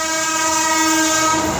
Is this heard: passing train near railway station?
yes